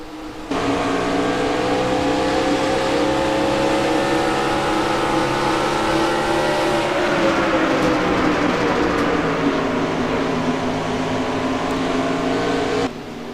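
Onboard engine drone of a late model stock car in a racing video game at Phoenix, a loud sustained roar that holds steady, dips as the car lifts off, then climbs again before cutting out.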